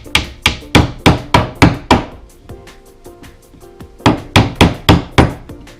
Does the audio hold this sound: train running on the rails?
no